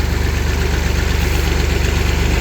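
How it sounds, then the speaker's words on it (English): A 1965 Massey Ferguson 203 backhoe engine idling nearby, a loud steady low throbbing chug with even rapid pulses and no talk. "Oh yeah, fires right up."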